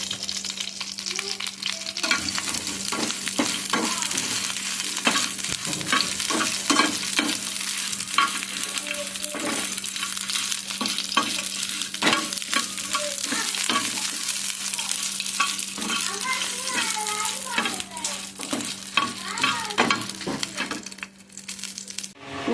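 Chillies fry in a pan for a Mangalore-style chicken sukka, making a continuous close sizzle broken by frequent metallic scraping and clinking as they are stirred.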